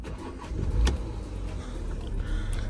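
A Porsche Cayenne with a 3-litre diesel engine cranks with a brief burst, then settles into a steady low idle rumble close by.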